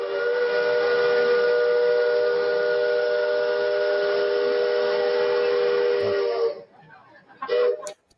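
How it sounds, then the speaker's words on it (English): Steam whistle of the Liberty Bell riverboat, a loud sustained multi-tone blast holding steady for about six seconds before cutting off, followed by a brief, quieter second toot. "We'll no longer hear the iconic whistle of the Liberty Bell."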